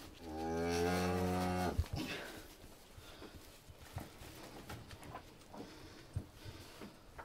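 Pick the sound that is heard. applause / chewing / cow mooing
cow mooing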